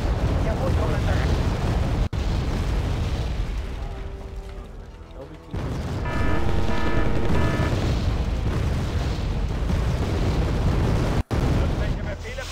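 Missile and artillery strikes in the war strategy game Wargame, heavy booming blasts and rumbling detonations rolling on and off, loud and dense, with a few abrupt cuts and spoken game voices mixed underneath.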